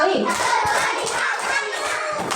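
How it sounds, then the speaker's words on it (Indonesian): A class of students claps hands during a peer-teaching lesson, producing a thick, continuous patter with a few sharper individual claps standing out and children's voices underneath. "Tepuk tangan 1 kali, tepuk tangan 2 kali, tepuk tangan 3 kali"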